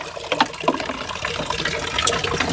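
Water flows steadily from a stream in a forest, used for doing laundry by hand, a continuous close rushing and splashing with small bubbling accents and no speech.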